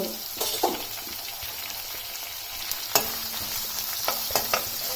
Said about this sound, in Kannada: ಜಿಂಜರು, ಗಾರ್ಲಿಕ್ ಎರಡನ್ನು ಫ್ರೈ ಮಾಡಬೇಕು